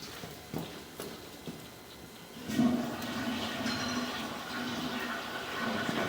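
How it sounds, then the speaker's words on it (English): A household toilet flushes in a downstairs bathroom, a steady rushing swirl of water starting midway and continuing at moderate level, preceded by a few faint knocks. "Flush that toilet."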